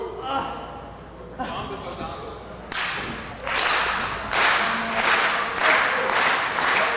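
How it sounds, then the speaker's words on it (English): A crowd at a Chikara pro wrestling show claps in a steady rhythm, loud and fairly close, with a commentator talking over the opening seconds before the claps start. "The fans clapping rhythmically"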